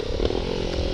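A motorcycle pulls a wheelie during a group ride on Parasnath Hill. Its engine gives a steady, loud drone throughout the brief moment, with no talking.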